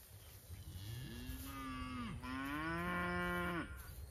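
Cattle on a farm lowing in a few long, drawn-out moos, moderately close and alone with no talk, over a steady background hiss.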